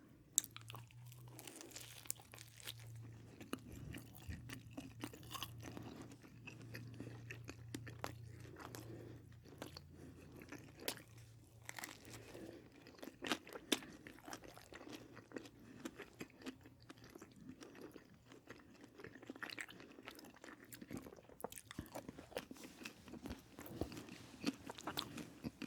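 Someone bites into a homemade five-cheese pizza with a crispy crust, giving quiet, close crunches and steady chewing in scattered bursts, with no talk.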